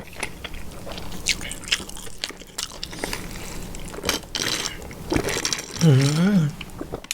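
Carrot bitten and chewed beside a giant braised pork leg meal, giving several crisp crunches close to the mic, with someone talking between bites and a brief high-pitched vocal at the end.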